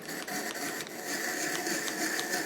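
A manual apple peeler and slicer is cranked by hand, giving a soft continuous mechanical whirring and scraping with faint rhythmic clicks, fairly quiet and close.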